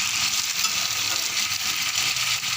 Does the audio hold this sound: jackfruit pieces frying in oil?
yes